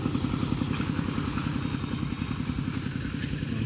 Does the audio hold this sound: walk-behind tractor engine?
yes